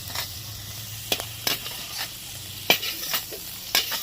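Food frying in a kadai for an echor chingri dish, lightly turned and stirred, gives a steady sizzle broken by several scraping strokes of a spatula, heard up close with no talking.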